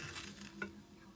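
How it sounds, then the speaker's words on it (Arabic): A spoon scrapes and clinks against a bowl as butter is stirred into melted chocolate, a brief soft metallic tap amid quiet mixing. "دابا غادي نضيف الزبده فوق هاد الشوكولا وغادي نبدا كنخلط مزيان"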